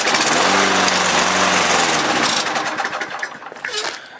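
A lawn mower with a suspected carburetor fault runs loud and rough for a couple of seconds, then sputters and fades as it dies, with no talking over it.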